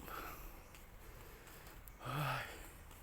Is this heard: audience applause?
no